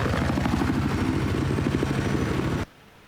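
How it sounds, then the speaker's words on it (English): A helicopter in the Battlefield 4 video game drones steadily with a loud, throbbing rotor and engine roar that cuts off abruptly near the end. No voices are heard. "Let's go into his helicopter."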